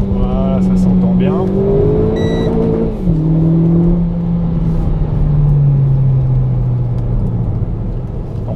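A Renault Clio 4 RS Trophy 220 in race mode revs hard toward the limiter, its engine pitch climbing, dropping back and sliding down again, loud and close from inside the car.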